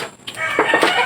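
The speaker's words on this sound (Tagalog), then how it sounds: "Dito na po tayo mga idol kung saan nakakulong yung alaga nating manok." A pet chicken in its cage lets out a few short clucks in quick succession, close by and fairly clear over a faint background hiss.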